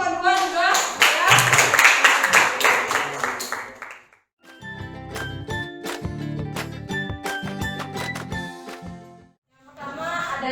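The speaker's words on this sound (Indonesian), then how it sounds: "Tepuk tangan kelompok 2 juga." A classroom group claps for a student team, a dense burst of hands for several seconds, then a stretch of scattered taps and clinks, then a short return of clapping; voices mingle in.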